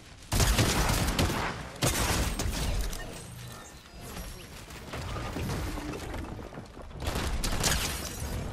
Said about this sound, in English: suppressor has a new noise